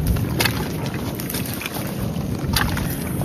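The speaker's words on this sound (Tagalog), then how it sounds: "Medyo malakas po kasi yung hangin." Strong night wind buffets the microphone outdoors, a dense continuous rumble with gusting swells and a few sharper bursts, close and loud, with no talking.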